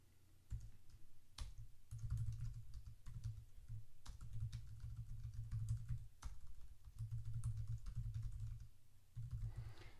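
Ad copy being typed on a computer keyboard: quick, steady clatter of keystrokes in close, quiet bursts with a few brief pauses.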